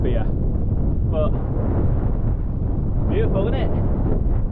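Wind roars steadily across a microphone on a sunny hilltop, a continuous low buffeting rumble with a few brief voices breaking through.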